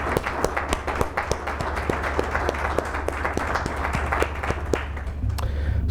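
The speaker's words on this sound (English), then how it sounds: "let's give a round of applause to all the people that made that possible" An audience at a climate mobility summit report launch applauds steadily, many hands clapping in a dense, even roar of moderate loudness that holds throughout, with a low background hum and no speech.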